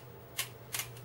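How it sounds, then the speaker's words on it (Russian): A 48-tooth ratchet handle from a Jonnesway S04H4726S 26-piece tool set clicks twice, each a short, crisp, close burst of ratcheting teeth over quiet background hum. "И видите, щелчок идет."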